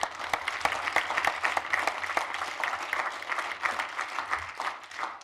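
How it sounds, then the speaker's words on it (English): A room full of people applauding mayoral candidates at a Minneapolis forum, sustained crisp clapping from a mid-sized crowd with sharp individual claps standing out, steady for several seconds. "Let's give the candidates a round of applause."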